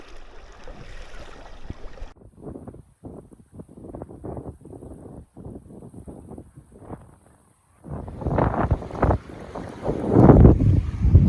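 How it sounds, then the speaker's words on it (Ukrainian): Strong wind buffets the microphone in rough roaring gusts on the Dnipro riverbank while feeder fishing, swelling louder toward the end, with no voices. "Вітер просто жесть. Реально жестячок."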